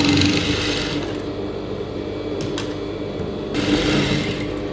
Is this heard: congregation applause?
no